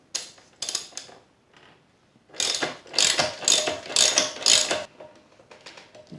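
A ratchet wrench breaks loose 17 mm upper subframe bolts on a KLR650, giving close, sharp clicking bursts: a few brief ones first, then a longer run of loud rapid ratcheting.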